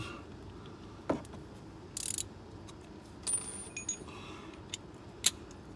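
A 3/8 ratchet being handled during an oil change on a 1999 Chevy Prizm: scattered faint metallic clicks and light rattles, a few sharper taps, against a quiet background with no speech.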